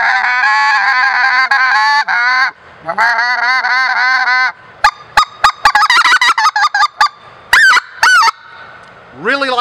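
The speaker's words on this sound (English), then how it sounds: "get some great clucks out of it, wonderful yodels, get some growl out of the call as well" A Haydel's WBS-17 wide bore speck goose call blown in loud honking clucks, then a run of sharp, quick staccato notes and yodel-like breaks, close and clear with no talking.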